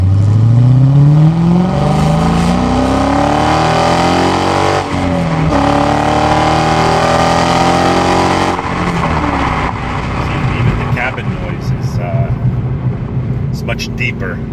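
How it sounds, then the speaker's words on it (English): A car fitted with new SRT headers and a fresh exhaust revs hard and accelerates through a 0-60 run, its engine note rising and shifting through gears, loud and close throughout. "you can feel the rush, the acceleration, the engine noise as well"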